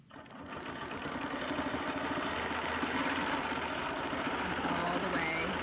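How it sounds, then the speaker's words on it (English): Sewing machine stitching a quilt border in a fan pattern, a fast, steady mechanical hum and rattle that starts up and runs continuously, with a voice speaking over it. "Stitch as far as I can go, stop with my needle down"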